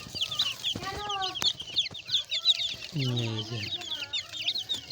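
Young chicken chicks peep constantly in a dense, high-pitched chorus close by, with a few lower, drawn-out calls mixed in.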